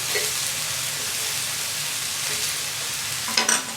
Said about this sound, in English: So my meat's really cooking or browning there in the center